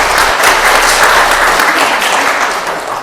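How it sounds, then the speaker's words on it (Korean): Churchgoers at a Sunday Eucharist service give a hearty round of applause for members celebrating birthdays, a loud, dense burst of clapping from the congregation with no speech over it. "축하 박수 좀."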